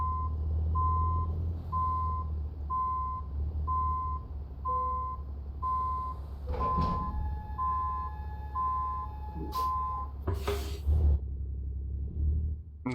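A truck in American Truck Simulator rumbles steadily with a low engine drone while its reversing alarm beeps at a regular pace, joined by a few brief clanks and bumps.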